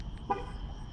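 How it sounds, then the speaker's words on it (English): A 2019 Dodge Charger R/T gives a brief, faint electronic beep on remote start at night, a short tonal chirp over low background hum. "And it beeps twice."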